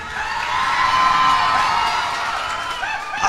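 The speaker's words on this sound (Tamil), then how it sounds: "ஒத்துக்கிறவங்க கைத்தட்டுங்க" A crowd at a Nel Jayaraman traditional paddy rice festival event responds with a continuous burst of cheering, whoops and clapping, fairly loud and sustained.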